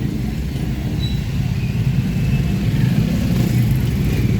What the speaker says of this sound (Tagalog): Naipit na naman ang traffic dito sa Pasig